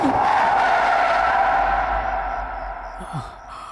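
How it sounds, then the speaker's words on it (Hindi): A car brakes hard and skids to a stop, a loud, continuous screech of tires over road rumble that slowly eases off near the end. "स्टॉप स्टॉप, गाड़ी रोको।"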